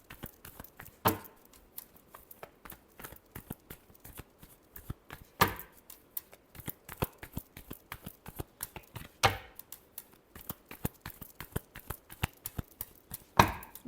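Tarot cards are shuffled by hand, heard up close as rapid, crisp flutters and riffling taps with a few louder slaps, continuing irregularly throughout without talk.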